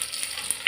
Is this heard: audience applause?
no